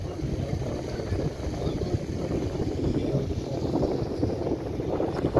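Steady low rumble of a large tour boat moving through water off Marmaris, Turkey, with wind buffeting the microphone and a constant churning wash.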